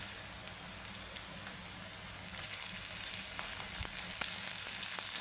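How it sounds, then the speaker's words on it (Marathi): Chopped tomatoes hit browned onions in a hot pan while cooking chavli usal, a black-eyed pea curry, setting off a steady close sizzle that grows louder partway through, with faint occasional stirring clicks and no talking. "आता मी टोमॅटो टाकून घेणार आहे"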